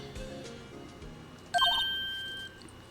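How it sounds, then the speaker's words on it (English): A cell phone rings in the Phoenix Wright courtroom game, a bright electronic ringtone of short chirping tones that starts suddenly partway through and holds a sustained tone before cutting off, loud and alone with no talking. "Why is it going to Maya's cell phone"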